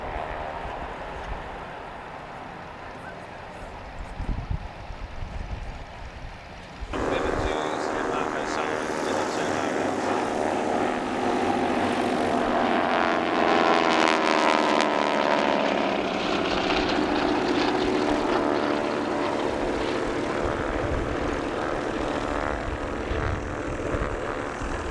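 A camouflaged vintage Harvard propeller aircraft roars past at an air show at Omaka, its engine swelling suddenly from a distant hum to a loud, sustained, rasping drone with a shifting pitch.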